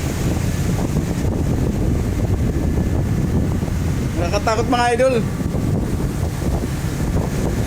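Strong wind and heavy waves buffet a ship crossing the Taiwan Strait, a steady loud roar of gusts and rushing water, with someone briefly speaking partway through.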